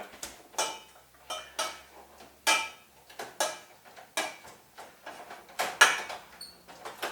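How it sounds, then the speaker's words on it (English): A potato masher works cooked potatoes in a pot, giving a run of about a dozen soft, squelchy thuds with faint metallic scrapes, in an irregular mashing rhythm, close and moderately loud with no voices. "Now you can mash potatoes with a fork, but it's just quicker to use a proper potato masher"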